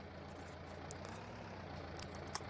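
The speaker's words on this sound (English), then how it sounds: "Switch off the tractor." A tractor engine idles steadily in Farming Simulator 19, a continuous low rumble with a few faint clicks and ticks on top.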